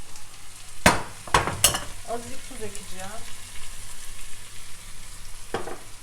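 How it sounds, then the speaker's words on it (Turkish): Spinach sizzles softly in a sauté pan under a few sharp scraping stirs, while someone speaks briefly over it. "Şimdi karıştıracağız. Bir 10 dakika soteleyeceğiz."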